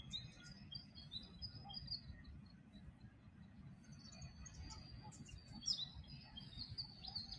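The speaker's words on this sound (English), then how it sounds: "There's some small birds, tiny little birds on the grass here." Faint high chirps from tiny finch-like birds on the grass at Pensioners Hill Lookout, Gunnedah, come and go over a low rumble of wind and distant noise, quiet and far off.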